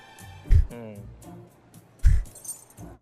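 Keys jangle in two short, loud metallic bursts about a second and a half apart, with people talking in the background.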